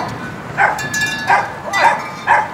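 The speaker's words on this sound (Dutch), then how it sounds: "Oh, 2 hondjes." Two small dogs bark in short, sharp bursts at a front door, four yapping outbursts spaced through the moment against quiet background.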